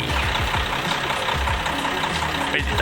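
Steady diesel engine of a KiHa 183 diesel railcar idling at the Makkasan railway workshop, a low, rhythmic knocking chug, continuous and close, with no voices.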